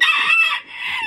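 A rooster crows loudly and close by, one strained, drawn-out call with a brief dip partway through.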